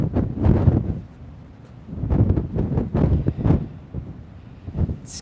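Wind gusts buffet the microphone on a boat sailing into Sydney Harbour in Australia, rising and falling in loud rumbling waves with brief lulls between them.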